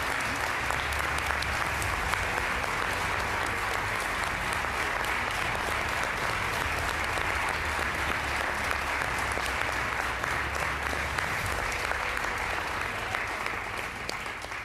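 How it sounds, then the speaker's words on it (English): Sustained applause from a large audience at an award ceremony honoring a college basketball player, a dense continuous wash of clapping that holds steady and fairly loud throughout. "I hope you could hear those applause"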